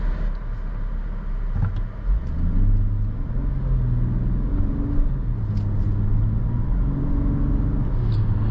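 Cabin view of a 2023 Volkswagen Atlas SEL R-Line driven in sport mode, its engine droning steadily as the pitch climbs and drops back across several gear changes, with road rumble underneath and no talking.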